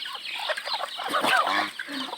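A chicken clucks close by in a quick, uneven run of short calls, standing alone without talk over it.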